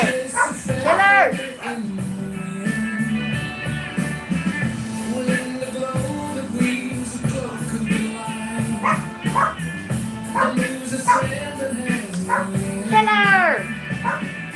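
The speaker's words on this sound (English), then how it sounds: "Please stop barking." A dog barks in short yips and bow-wows, some sounding close, in a busy room full of music and crowd noise. People talk throughout.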